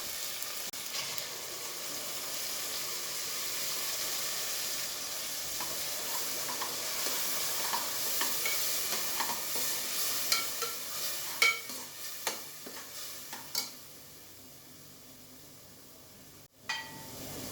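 Ground mint and green chilli paste hits a hot pan and fries with a broad, steady hiss. Irregular scraping stirs grow more distinct toward the end, broken by a brief pause and a sharp utensil knock.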